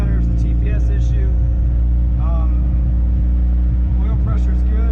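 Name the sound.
Honda CRX Si engine running after starting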